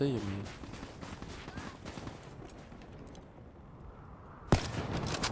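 Sniper and other gunfire in the shooter game Black Ops 3 crackles in rapid bursts, then a single loud, sharp shot cracks near the end, with a voice talking underneath.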